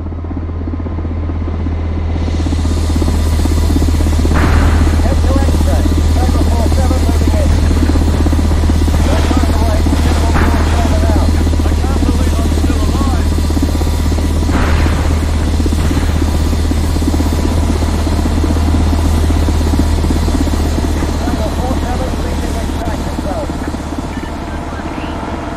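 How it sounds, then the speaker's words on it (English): A helicopter arrives in the Socom Confrontation shooter on PS3's Kasbah map, its loud, close rotor thrum and engine drone swelling in and holding steady throughout, with a deep low hum beneath. "Chopper's here!"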